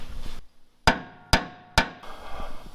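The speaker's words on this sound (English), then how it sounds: "Hammer." Three sharp hammer strikes ring out at an even pace while removing bracing on a Toyota FJ45, each one loud and close with a short metallic decay, and quiet workshop noise fills the gaps.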